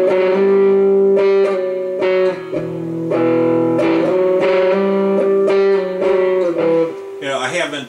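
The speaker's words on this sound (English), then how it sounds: "I'm doing a distortion now with the distortion, the tube driver" An electric guitar played through a Tube Works Tube Driver distortion pedal rings out sustained, overdriven chords and notes in a steady rhythm, loud and close, with a brief scratchy flourish at the end.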